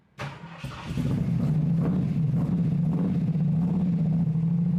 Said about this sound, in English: It's making all the right sounds, but the 460 just isn't happy idling.